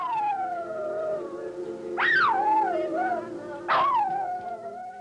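Several dogs howl at an audition, with long wavering howls and two sharp rising yips or wails standing out above the steady chorus, close and fairly loud.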